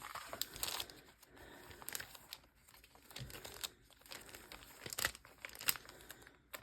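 Someone handles a book of stickers, leafing and crinkling paper pages in soft, irregular rustles close by, with no talking.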